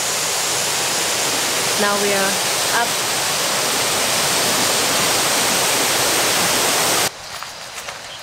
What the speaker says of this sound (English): We found yesterday this waterfall.